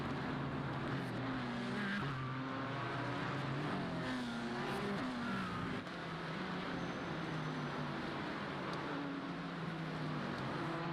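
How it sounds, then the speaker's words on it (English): A BMW sim racing game car sliding out of the final corner at the Detroit circuit, a long continuous tire squeal over loud, steady engine roar from several race cars. "Big slide for Peter Lanek out of the final corner"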